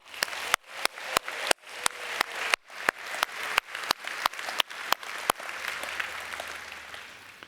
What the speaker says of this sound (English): Let's clap again.